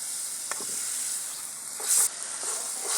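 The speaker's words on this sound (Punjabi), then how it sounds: "ਲਓ ਆਪਣਾ ਮਸਾਲਾ ਹੁਣ ਰਿੱਝਣ ਲੱਗ ਗਿਆ ਵਧੀਆ ਬਣ ਗਿਆ ਤੜਕਾ ਲੱਗ ਗਿਆ" Masala tempering sizzling in a pan for a village-style soyabean pakora curry, a bright continuous hiss with a few soft pops and a brief louder burst near the end, no talk.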